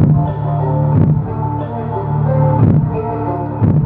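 Music played through an Ahuja AMX-60 amplifier with the bass turned up, a steady boomy low-end mix with a repeating beat, loud and close.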